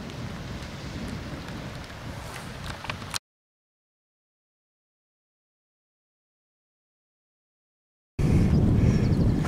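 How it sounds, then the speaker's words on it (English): Heavy rain pours down on an outdoor Lake District walk as a dense, steady hiss, cut off by a stretch of complete silence before the downpour returns just as loud. "It's pouring down with rain."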